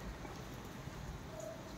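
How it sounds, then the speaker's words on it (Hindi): Persistent rain pours in a Hyderabad street after days of downpour, an even, steady hiss of drops on surfaces with no voices. "बारिश छूटने का नाम ही नहीं है।"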